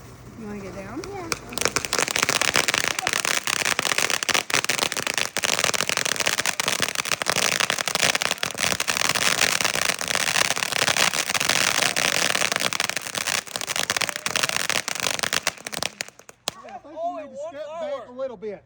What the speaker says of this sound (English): That's all in just one firework.